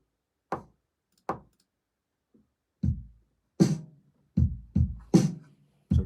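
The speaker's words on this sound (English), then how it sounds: "So really, really bare drums without anything else on it." Bare recorded drum track played back alone, with no other instruments: sparse, separated hits, two soft single strikes, then heavier kick and snare blows falling into a loose, halting rhythm.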